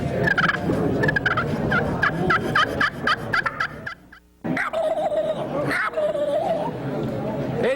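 A turkey call imitates a wild turkey, sending out a rapid run of gobbling yelps, then a pause before more fluttering, gobble-like calls follow. The calls are fairly close and mixed with some background chatter.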